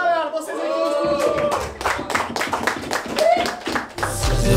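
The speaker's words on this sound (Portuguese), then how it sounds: "Palmas aí pra batalha, galera." A crowd claps through a freestyle rap battle event, the Batalha da Aldeia in Brazil, with dense, uneven applause running across the whole stretch, mixed with voices and a shouting host.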